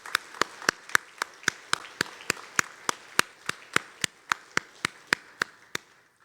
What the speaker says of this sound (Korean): 우리 어머니를 위해서 박수 한번 치도록